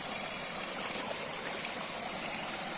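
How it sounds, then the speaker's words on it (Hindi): Natural mountain stream flowing down from the hills as a village nullah, a steady, even rush of water close by, continuous and alone with no voices. "नेचुरल पानी जो चलता हुआ पहाड़ों से नीचे की ओर नाले के रूप में आ रहा है"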